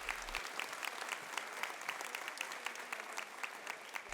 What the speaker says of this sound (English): joining me in a round of applause for our donors